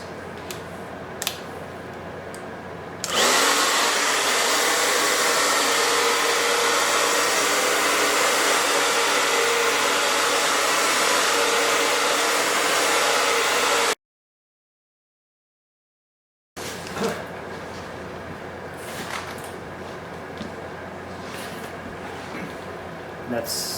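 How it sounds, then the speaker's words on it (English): A hairdryer is used to heat and melt wax into canvas, running as a loud steady whoosh for about ten seconds, then stopping, with a gap and quieter background afterward. Speech occurs around it. "So I'm going to heat it up with the hairdryer"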